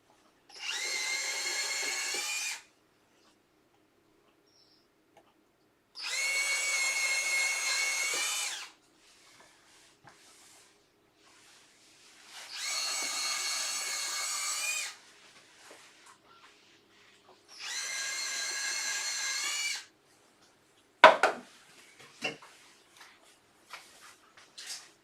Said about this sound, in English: So I'll drill all my little holes.